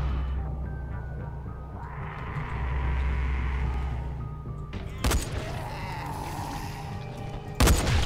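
Two sharp rifle shots crack out a few seconds apart in the PC game Dying Light over a low, steady rumble, each loud and abrupt.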